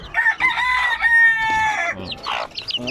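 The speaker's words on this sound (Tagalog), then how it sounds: "Pakainin ko itong mga sisiw ko ng pino." Chicks and hens on a Filipino backyard farm being fed, with loud clucking and crowing-like calls close by, overlapping continuously through most of the clip.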